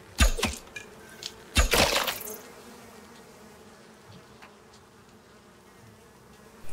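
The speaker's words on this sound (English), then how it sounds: "Oh, there's the bees up there." Bees swarming near a nest in the survival game Icarus, a faint steady buzzing hum running throughout, broken early by a few sharp loud cracks.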